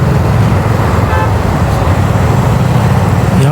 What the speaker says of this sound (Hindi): भाई बहुत ट्रैफिक है यार यहाँ तो